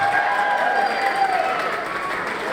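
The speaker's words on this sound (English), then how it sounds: "A big round of applause." Guests at a Lebanese and Italian wedding reception clapping for the parents of the bride and groom, a steady burst of many hands with some crowd noise and faint cheering, while an announcer's voice carries over the top.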